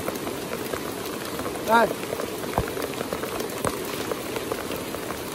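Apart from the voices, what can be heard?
heavy rain falling in the forest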